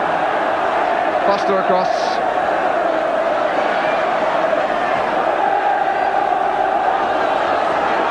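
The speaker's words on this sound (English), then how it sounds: "the Derby crowd responding well" A football crowd at the 1983 FA Cup tie between Derby County and Manchester United keeps up a loud, continuous roar throughout, with a commentator talking over the din.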